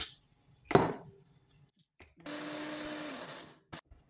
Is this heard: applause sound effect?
no